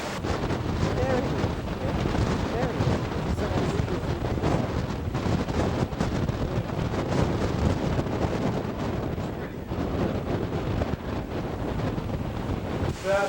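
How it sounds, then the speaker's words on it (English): Strong outdoor wind at the Golan Heights buffets the microphone with a constant loud roar and rumble, and gusts rise and fall throughout. "Blowing up in the wind."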